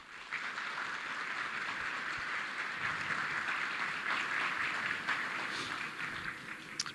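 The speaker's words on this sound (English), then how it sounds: "Let's give another big applause for them." Sustained audience applause at a ceremony honoring Bangladeshi heroes, a dense steady wash of clapping from a large crowd lasting the whole stretch without pause.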